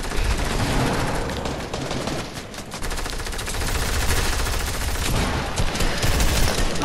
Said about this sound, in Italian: Dai, sparano, andiamocene via.